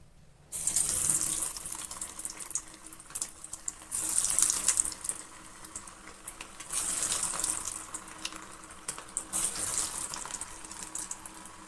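Mutton balls (kola urundai) frying in hot oil in a kadai over a medium flame, a steady loud hiss and sizzle that swells in several bursts as more balls go in, with no talking.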